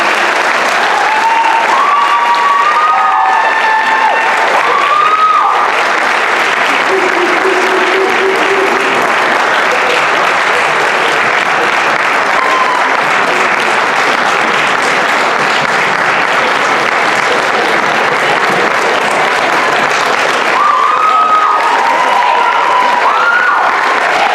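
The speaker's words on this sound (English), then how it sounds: "So can we have one more round of applause for these amazing people?" A school audience at a senior performance applauds long and loud in a continuous wash of clapping, with scattered cheers and shouts rising near the start and end.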